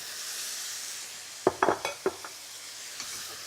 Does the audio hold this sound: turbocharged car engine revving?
no